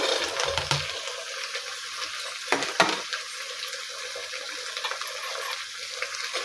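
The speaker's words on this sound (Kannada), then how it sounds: "ಎಲ್ಲ ಚೆನ್ನಾಗಿ ಫ್ರೈ ಆಗಬೇಕು ನೋಡಿ ಈಗ ಈಗ ಫ್ರೈ ಆಗಿದೆ" Chopped vegetables, capsicum and kabuli chickpeas fry in a pan, giving a soft, continuous sizzle with occasional stirring scrapes and a short clatter partway through.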